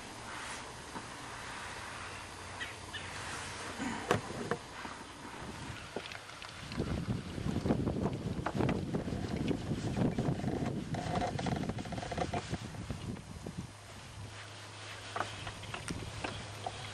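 Wind blows over a boat anchored on a lake at Greene-Sullivan State Forest, a soft rushing and buffeting that swells louder midway with faint knocks and water movement, no voices present.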